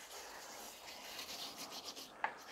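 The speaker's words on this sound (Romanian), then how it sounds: "Voi folosi peria de metal," Metal wire brush scrubbing the unglazed surface of a bonsai pot, giving a steady close rasping rub that runs continuously with a small knock near the end.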